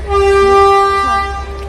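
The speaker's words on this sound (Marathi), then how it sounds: "कशी छोटी ट्रेन आहे मस्त टॉय ट्रेन" The horn of the Matheran toy train sounds a sustained, steady tone over a low rumble, loud and close, fading slightly at the end.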